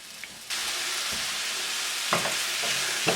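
Vegetables for sardine pasta sautéing in a pan, a sudden burst into a loud, steady broadband sizzle after a quiet start, with a few stirring scrapes later on, close up and free of talk.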